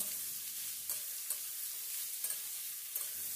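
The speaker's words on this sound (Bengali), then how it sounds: "এবার লবণকে বিট, গাজরের সাথে খুব ভালো করে নেড়ে চেড়ে মিশিয়ে নিতে হবে।" Salted beetroot and carrot are stirred in a pan with soft sizzling under repeated scraping strokes of a spoon, close up and with no talking.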